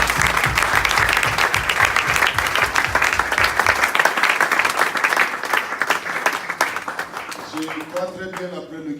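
A church congregation applauds the Lord in a dense burst of clapping that holds for several seconds, then thins out toward the end. Voices rise through the crowd, and music starts up as the clapping fades.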